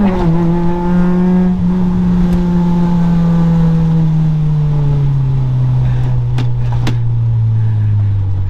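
A Honda Civic EG6 with a 1.6 VTEC engine pulls hard along a straight road, its loud, steady, close-up engine drone sustained throughout without any voices.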